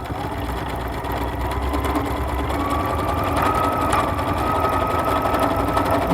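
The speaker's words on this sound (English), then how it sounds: "And then I'm going to stitch this and see what comes out of it." A sewing machine runs steadily, stitching metallic thread, its even mechanical whir close and continuous for the whole stretch with no talking.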